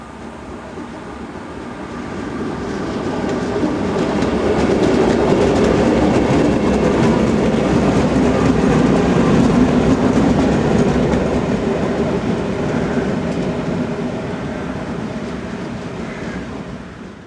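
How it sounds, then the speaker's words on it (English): A heavy freight train hauled by three Class 6400 diesel locomotives rumbles past, swelling to a loud steady roar with rhythmic clatter of wagons, then slowly fading as it moves away. "Some of the heavier freight trains out of Holland are hauled by 3 Class 6400 diesels."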